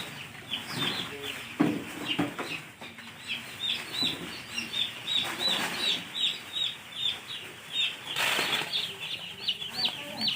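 About sixty-two young chicken chicks crowd a tray in a brooding house, peeping constantly in rapid, high, overlapping chirps. Soft fluttering and bumps sound underneath.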